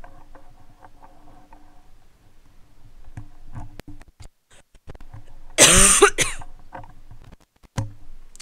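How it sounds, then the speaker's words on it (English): A single loud cough bursts out partway through, close and sharp, among quiet rustling and small handling noises. "I had a bit of a cough"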